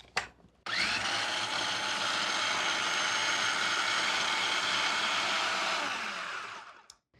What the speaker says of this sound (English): we're gonna puree until completely smooth